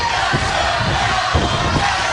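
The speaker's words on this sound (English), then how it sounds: "Definitely a ruckus crowd here this evening live" A packed wrestling arena crowd roars and shouts continuously at a live TNA Impact match between Jeff Hardy and James Storm, a dense, loud wall of cheering with no break.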